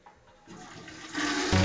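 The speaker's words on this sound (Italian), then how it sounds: "Tira l'acqua, tira l'acqua." A toilet flushes, its rushing water rising from a quiet start into a loud, close gush toward the end.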